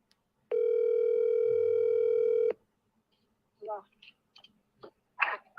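A steady telephone dial tone hums for about two seconds after a call disconnects, loud and close on the line, then stops; brief mouth sounds and short bursts of voice follow.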